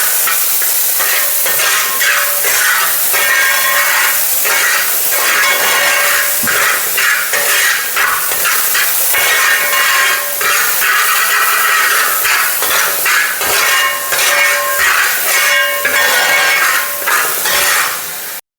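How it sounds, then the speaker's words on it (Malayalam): Pineapple pieces sautéing with sugar in a pan for pineapple payasam, a loud continuous sizzle and hiss broken by repeated clinks and scrapes of a stirring spoon, close up and with no speech. "നമ്മൾ പഞ്ചസാര ചേർത്തിട്ട് നന്നായിട്ട് വഴറ്റുന്നത് കേട്ടോ"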